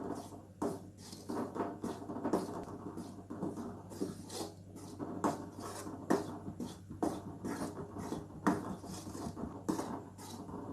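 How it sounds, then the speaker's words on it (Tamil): Wheat flour dry-roasts in a pan over low heat and is stirred steadily, making a rhythmic series of soft scraping and patting strokes close by, quiet and without talk. "இதை நல்லா ஒரு சிம்லயே வச்சு நல்லா வறுத்து விடுங்க."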